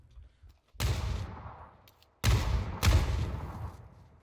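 M249 machine gun firing in PUBG, a few loud bursts of gunfire with sharp onsets and lingering decay, separated by brief pauses, no voices over it.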